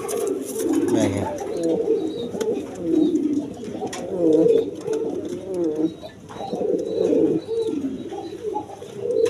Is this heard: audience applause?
no